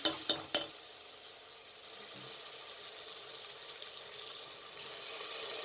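Spoon stirring tomatoes and dry spices into lentil daal in a pot, a few sharp scrapes at the start followed by a steady soft sizzle, close up with no talking.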